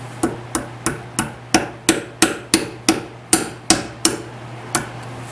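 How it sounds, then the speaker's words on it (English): A hammer taps a razor blade behind a stuck piston ring during a Chevy S10 V8 swap, about fourteen sharp metallic strikes in a steady rhythm, close and clear over a low hum. "Hammering razor blades."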